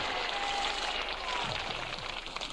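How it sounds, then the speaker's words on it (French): Studio audience on a French word game show breaks into applause, a dense, steady patter of clapping at a moderate distance lasting the whole moment. "Alors, déjà, des applaudissements."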